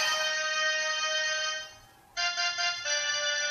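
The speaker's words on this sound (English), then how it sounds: "That's my producer's ringtone." An electronic ringtone plays a steady, bright multi-tone melody, pauses briefly, then resumes in short repeated bursts, close and clear.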